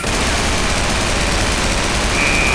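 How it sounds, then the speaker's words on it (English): Dense, continuous gunfire from the video game Underhell, a loud unbroken burst of rapid shots filling the whole moment with no pauses. "Someone's shooting at me."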